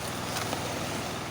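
Sea waves and wind at Coolwave resort in Ternate, a brief, steady, loud wash of surf and wind buffeting the microphone.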